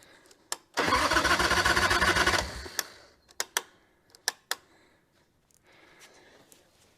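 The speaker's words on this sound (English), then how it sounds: "I'm not actually sure why she's throwing over like that and not starting" A Harley motorcycle engine cranks over without catching, a loud steady churning burst of about a second and a half, then stops, followed by scattered sharp clicks and taps in a quiet space.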